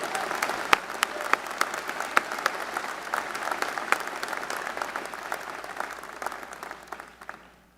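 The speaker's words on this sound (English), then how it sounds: "A round of applause." A crowd applauds at an undergraduate graduation ceremony, sustained many-handed clapping with a few sharp individual claps standing out, tapering off near the end.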